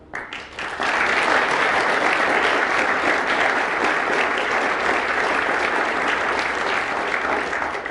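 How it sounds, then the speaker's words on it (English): Sustained applause from a seated audience at a sports panel session, dense and steady for several seconds after a brief quieter start, with no voices over it. "Please give a huge round of applause to our panel."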